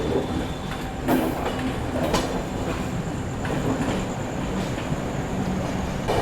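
A Mumbai Harbour line local train bound for Panvel runs past with a loud, continuous rumble and clattering wheels, heard alone without talk.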